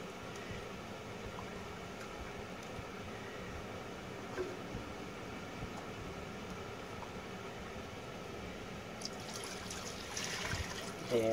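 Liquid, four cups of it, poured into a cooking pot on the stove while making gravy for hamburger steak, a faint steady trickle running throughout and swelling slightly near the end.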